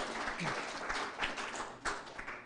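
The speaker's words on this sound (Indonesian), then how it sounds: "Tepuk tangan dulu untuk gamer belakang." Applause for young esports gamers at a provincial esports board inauguration event, a brief burst of scattered clapping from a modest crowd, fairly faint and distant.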